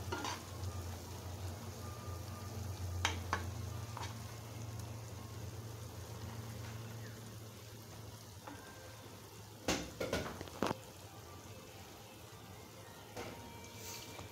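Shrimp and banana flower fritters frying steadily in hot oil, a continuous close sizzle with a few sharper crackles and clinks of stirring partway through.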